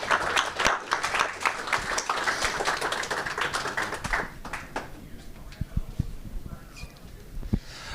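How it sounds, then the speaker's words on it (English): Audience at an AI hackathon meetup clapping for presenter Robin, a burst of applause that thins into scattered individual claps, with faint voices mixed in. "Can we get one more round of applause for Robin?"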